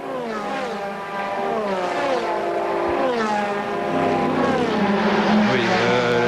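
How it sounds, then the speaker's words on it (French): A Corvette race car at the 2006 24 Hours of Spa, driven by a Finnish gentleman driver, passes loudly with a whining, rising and falling engine note layered among other racing engines in a steady roar. "la Corvette de Vincent Radermaker qui est pilotée par Kuismanen"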